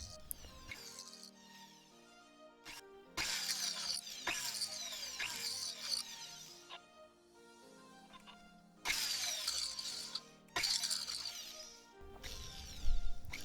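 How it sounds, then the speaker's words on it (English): A flat cutter carves a channel between stone settings in a silver ring, giving bursts of high, grinding rotary-tool whine that start and stop in separate passes, close and fairly quiet. "Next, I use a flat cutter to create a channel between each stone."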